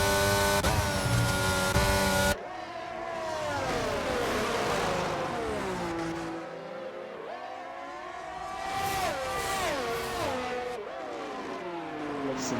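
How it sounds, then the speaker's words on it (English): Formula One cars race around Suzuka Circuit, a high-pitched engine scream with rising and falling whines as cars pass and shift gears, loud and continuous over several passes. "Formula One cars raging around the Suzuka Circuit"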